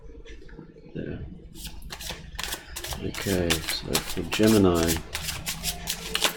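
Tarot cards are shuffled in a quick, crisp riffle of papery flicks, while someone talks over them throughout.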